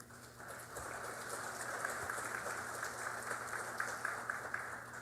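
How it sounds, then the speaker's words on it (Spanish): An audience at a justice panel event gives a strong round of applause, a fairly faint, even patter of many hands clapping that continues throughout, with no speech over it. "a quien recibimos también con un fuerte aplauso"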